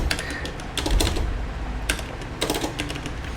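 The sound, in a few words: typing a command on a computer keyboard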